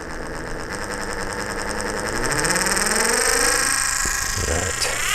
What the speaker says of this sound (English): I would say this may be bearing noise, so the shaft may have been slightly underground.